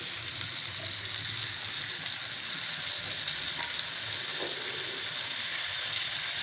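Four chopped tomatoes fry in hot oil in a pan, giving a steady, dense sizzle that holds at an even level throughout, close up and with no voices.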